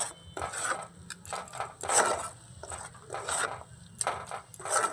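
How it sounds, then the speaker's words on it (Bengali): A spoon scrapes and knocks against a pan while melted jaggery filling for patishapta is stirred and dried, in irregular bursts of scraping with short pauses between strokes. "এইভাবে নাড়িয়ে চাড়িয়ে পুরটাকে আরেকটু শুকনো শুকনো করে নেব"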